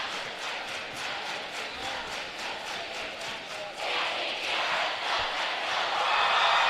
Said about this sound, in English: we will show the sectional trophy presentation as the Tigers sing their fight song with their fans